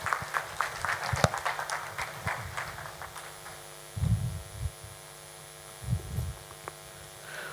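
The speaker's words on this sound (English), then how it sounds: "So let's give a hand of applause for Mr. Tiribangani" Conference audience at a startup week event clapping as a speaker approaches the stage, a short burst of scattered applause over mains hum that fades, followed by thumps and handling noise.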